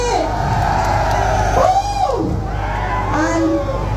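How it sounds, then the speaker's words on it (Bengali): A large crowd at a live stage event cheers and claps loudly and continuously, with shouts and whoops rising over the roar and a tonal sweep from the sound system. "মিউজিক শুনছিলেন ডিজে ইমরান ভাই, তার জন্য একটা জোরে করতালি।"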